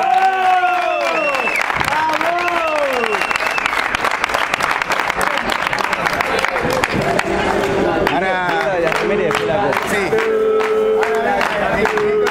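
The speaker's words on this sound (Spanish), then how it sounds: "La pueden ver, lo pueden aplaudir" A crowd applauds the championship's top scorer at a football award celebration, sustained loud clapping throughout, with shouts and cheering voices mixed in and people talking over the noise.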